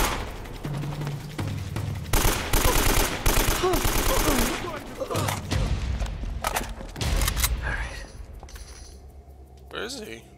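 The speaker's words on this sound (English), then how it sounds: "Where's the gunfire?" Bursts of rapid gunfire crackle in quick succession in the video game Uncharted: Drake's Fortune, loud and close, over a busy mechanical background with no talking.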